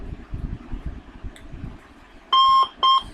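A quiz timer alarm goes off as time runs out, giving two loud electronic beeping bursts, the first longer, right after a stretch of soft mechanical clicking.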